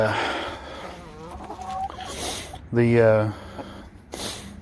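Backyard hens cluck in a few short bursts, with one louder, drawn-out squawk near the middle, mixed in with nearby talking.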